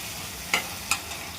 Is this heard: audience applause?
no